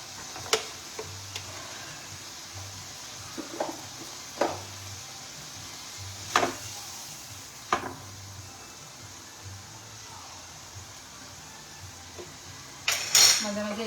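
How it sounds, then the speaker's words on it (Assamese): Butter being stirred in a pan on a cooking show, with a utensil giving scattered clinks and taps against the metal about every second or two, close and moderately loud over a low steady background, with no talking. "মাজে মাজে এইখিনি লৰাই থাকিম,"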